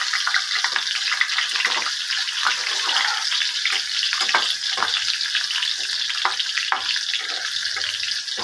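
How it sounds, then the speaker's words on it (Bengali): Radish chunks sizzle steadily in oil in a frying pan, a continuous bright crackle with occasional stirring scrapes, close and alone with no talk. "চাকচাক করে মূলা রেখেছি, সেগুলো একটু ভেজে নিলাম"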